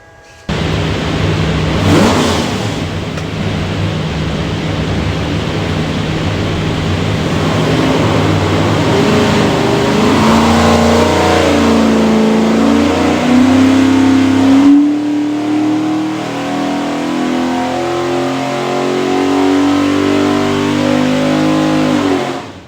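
A polished Ford 427 V8 with Borla stacks and Holley Terminator X fuel management runs on a dyno, revving loudly and climbing steadily in pitch through a long pull, then dropping back to a rough idle.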